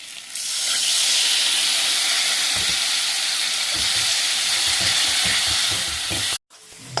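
Ginger-garlic paste and dry spices cooking in a pan for a fish-bone chachchari, a loud continuous hiss and sizzle with occasional stirring scrapes, briefly cut off near the end.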